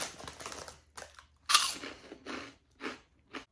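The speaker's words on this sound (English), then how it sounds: "I mean, just listen to this crunch." Crisp, loud crunching of spicy dill pork rinds being bitten and chewed up close, about five separate sharp crunches with short quiet gaps between them and no talking.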